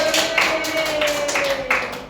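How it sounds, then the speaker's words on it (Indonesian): Classroom applause from students in a mathematics lesson, a steady patter of many hands clapping at close range, continuing evenly for a couple of seconds with a faint tone underneath. "Tepuk tangan untuk kita semua."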